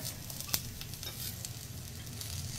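Dried fish, sukat, sautéing in oil in a pan, a soft steady sizzle with one clear scrape of the spoon early on, close but fairly quiet.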